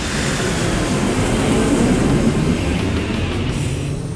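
An aircraft touching down on landing at Yelahanka, heard as a loud, continuous broadband roar and rumble that stays steady throughout with no voices.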